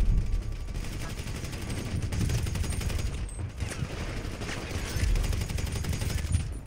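Sustained rapid assault rifle fire in the video game GTA 5, a dense, loud rattle of shots continuing through the whole stretch with slight surges and dips in intensity.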